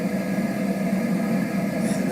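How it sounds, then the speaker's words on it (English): A heavy fan track from a Letsfit white noise machine plays, an even, continuous whooshing drone with a low hum, unchanging and alone. "Fan noise."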